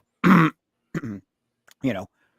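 A few short throat-clearing coughs, close and fairly loud, in separate bursts with pauses between, no talking.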